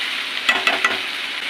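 Tomatoes are stirred and mixed in a frying pan over a steady soft sizzle, with three quick scraping strokes of the spoon close by and no voices.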